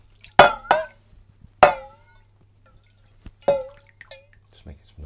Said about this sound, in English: Have another bowl of washing up water.